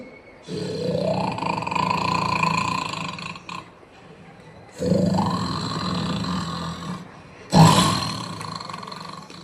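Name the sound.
voice imitating a tiger growling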